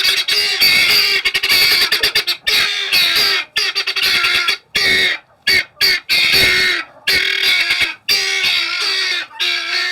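A guinea fowl hen on a pasture-raised egg-laying flock squawks loudly in rapid harsh bursts, repeated calls broken by short pauses, close and dominant with no talk.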